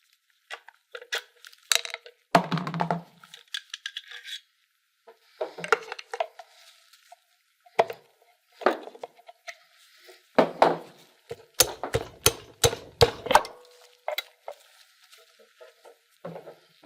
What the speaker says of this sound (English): Use the pry points to separate the timing cover gasket.